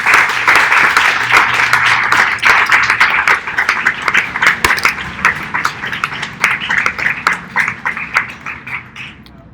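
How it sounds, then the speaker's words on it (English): Audience applause from a crowd, dense steady clapping that stays loud for most of the stretch, then thins into scattered individual claps as it fades toward the end. "please, a very round form of applause"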